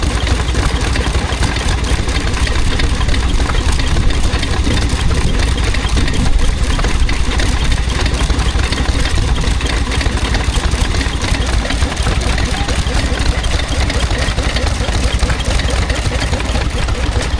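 An International Harvester M type 1.5 hp stationary engine runs at a rural show, loud and close with a steady, even chugging that keeps up without a break.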